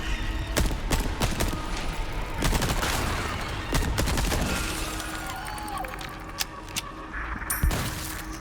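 Gunfire in the Resident Evil 4 Remake video game, several sharp cracking shots spaced irregularly through a busy background of game ambience and effects.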